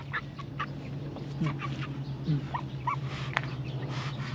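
Backyard ducks with newly hatched ducklings: scattered short quacks and peeping calls, soft and fairly near, over a low steady hum in the background.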